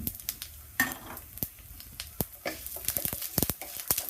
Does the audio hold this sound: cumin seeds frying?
yes